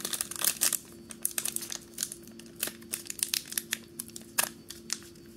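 A Pokemon card booster pack from a Sword and Shield Ultra Premium Collection being torn open, with close, loud crinkling foil and short ripping bursts in an irregular rhythm, with no talk.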